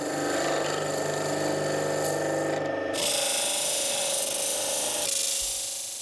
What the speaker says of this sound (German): Im Gegensatz zu Holz wird Bernstein beim Drehen nicht geschnitten, sondern geschabt.